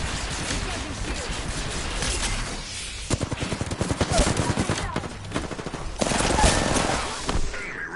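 Gunfire in a shooter video game, dense rapid bursts and continuous automatic fire with loud, sustained shooting broken by short gaps, over a busy layer of game effects.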